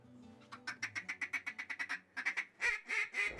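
Ducks quack on a lake during a hunt in Tunica, Mississippi, a rapid rhythmic series of about a dozen nasal calls followed by louder, longer quacks, fairly close and without talk.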